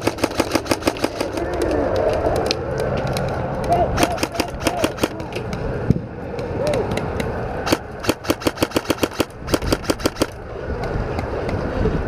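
BB guns firing during an outdoor BB war skirmish around a tower, rapid bursts of sharp clicking shots in repeated volleys over a constant rumbling background, with players talking.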